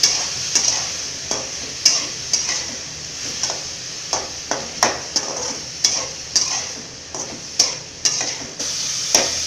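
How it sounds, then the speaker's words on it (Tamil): Ridge gourd fries in hot oil with a constant soft sizzle, broken by regular scraping clicks from a spoon stirring the pan, close and moderately loud. "பீர்க்கங்காய் எண்ணெயில் நல்லா வணங்கி வரட்டும்"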